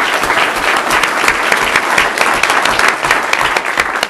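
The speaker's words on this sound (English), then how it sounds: "that's the first time you're going to get an applause" Steady applause from a city council meeting audience, dense and sustained clapping filling the room throughout, close and loud with no speech over it.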